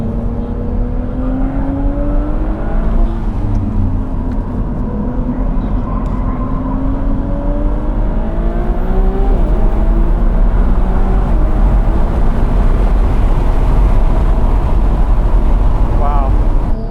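A Ferrari 296 GTB with a 3-litre engine accelerating hard on a track, loud continuous engine drone climbing in pitch through several gear changes, heard from inside the car.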